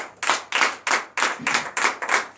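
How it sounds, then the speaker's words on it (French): Roughly ten loud, evenly spaced claps ring out close by at a church deliverance night gathering in Comè, Benin, each sharp hit decaying quickly before the next in a steady rhythmic beat. "Donc je vous demande d'applaudir très fort."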